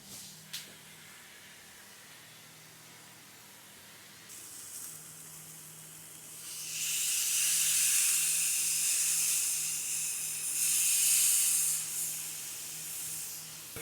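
Chicken seasoned with salt and black pepper sears on a hot oiled grill, a steady broad sizzle and hiss that builds louder midway and holds, with a faint low hum beneath.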